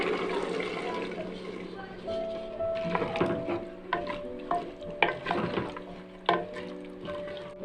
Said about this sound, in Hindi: 2-3 मिनट तक हम इसकी भुनाई करेंगे ताकि मसाले इसमें अच्छे तरीके से मिक्स हो जाए।